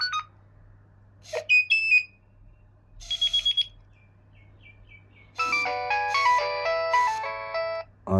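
A vintage Nokia 6100 mobile phone plays its ringtone: short chirpy electronic beeps and trills in separate bursts, then a longer tinkling melodic run of stacked tones, clear and close, with a low steady hum beneath.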